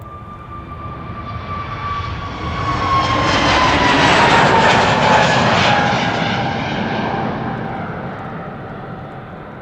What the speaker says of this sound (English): The A321 Neo to Person-Chester already spooling up.